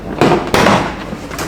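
Plastic bumper clips on a Nissan Navara release in two sharp pops close together, near and fairly loud, each followed by a brief scraping rattle of the bumper panel shifting. No voices are heard.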